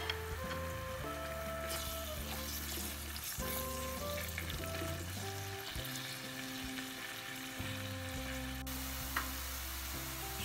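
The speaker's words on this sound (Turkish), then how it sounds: "Onu da şöyle güzelce soğanlarla birlikte kavuralım." Chopped red kapya pepper and onions sizzle steadily as they are sautéed in a pan for a spinach root dish, a continuous close frying hiss under tonal background music, with no talking.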